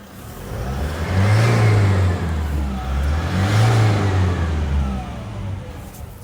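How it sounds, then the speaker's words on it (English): A warmed-up 2012 Toyota Hilux pickup engine revs hard twice, each run rising and falling in a loud, close, continuous roar with no voices. "We can give it some revs with the Toyota Hilux."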